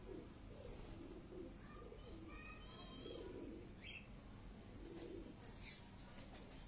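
Breeder pigeons kept at a home loft coo in low, soft, rolling phrases, with a brief flutter of wings near the end, heard close against a quiet background without speech.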